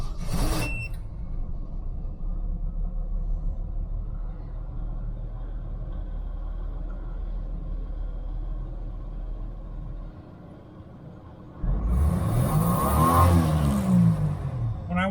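Jeep CJ-7 engine running too lean: a low steady rumble that dips briefly, then a loud, rising rev burst near the end, close and with no voices.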